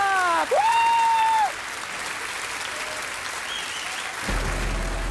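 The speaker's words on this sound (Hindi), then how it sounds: "तो तालियों के साथ स्वागत करते हैं कमाल परफॉर्मर मयूरी जी का।" Applause welcomes a performer named Mayuri on stage, a soft, steady patter of clapping beneath a bright rising and falling electronic stage tone at the start, with a low thump near the end.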